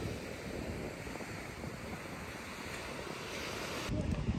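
Strong coastal wind near Sintra, Portugal, on Europe's far western edge, buffeting the microphone as a steady broadband roar with surf undertones, growing gustier at the end.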